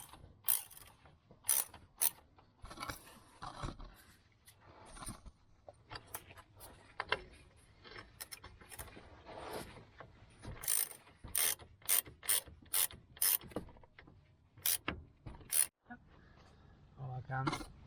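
A ratchet tightens the front lower control arm bolts on a Toyota Celica MK7 T23, making bursts of sharp, close clicking strokes in uneven runs, with someone talking now and then between them.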